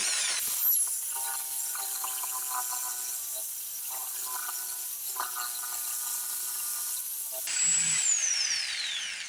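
A power saw cuts through a guitar neck with a steady, close, high-pitched whirring hiss that holds for most of the stretch before briefly changing pitch near the end, with no talking.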